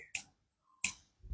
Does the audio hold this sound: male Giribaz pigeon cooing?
no